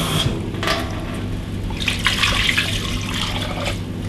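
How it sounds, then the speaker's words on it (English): Cold water streams steadily from a tap into a pot of chicken wings or drumsticks for soup, a continuous close pour with a few brief clinks and splashes. "You cover the wings or drumsticks with water,"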